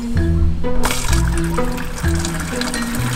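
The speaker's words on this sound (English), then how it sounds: "We are turning on the water and start the timer." Tap water flows at a steady rate through a brand-new, never-used RV water filter at a water pedestal. There is a sudden gush at the start, and then a continuous close rush with a little sloshing.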